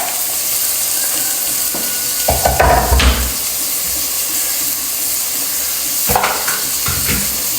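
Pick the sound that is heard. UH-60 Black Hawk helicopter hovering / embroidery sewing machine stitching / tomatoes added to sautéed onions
tomatoes added to sautéed onions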